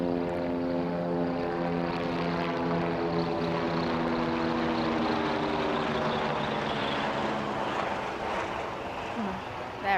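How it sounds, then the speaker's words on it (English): A helicopter flies over the Roma Cricket Ground in Italy during a T10 match, its steady rotor and engine drone holding at an even, fairly loud level for the whole stretch. "I can hear a helicopter from somewhere."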